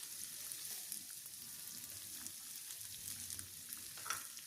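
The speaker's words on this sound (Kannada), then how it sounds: "2 ಈರುಳ್ಳಿನ ಕಟ್ ಮಾಡಿಕೊಂಡು ಫ್ರೈ ಮಾಡ್ಕೊಳ್ಳೋದಕ್ಕೆ ಹಾಕ್ಕೊತಾ ಇದ್ದೀನಿ" Two cut onions frying in oil for fenugreek biryani, a faint continuous hiss of sizzling with soft crackles and a scrape or two, heard alone at a distance.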